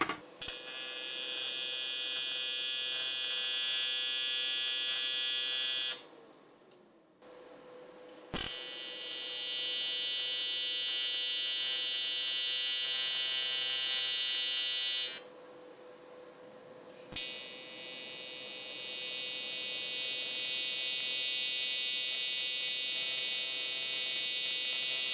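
Tack welding on a fabricated turbo VR6 intake manifold: a loud, steady buzzing arc hum runs for several seconds, stops briefly, then runs again in two long bursts, with no talk.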